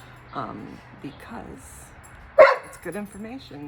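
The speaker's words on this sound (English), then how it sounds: "That is my dog saying hello" A pet dog barks once sharply, loud and close, amid ongoing indoor talk, with a few fainter yips around it.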